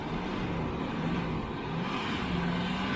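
A 2.7-litre V6 turbo diesel engine in a Land Rover Discovery 3 runs at a steady, loud idle with a low rumble, close up and uninterrupted, with no voices over it.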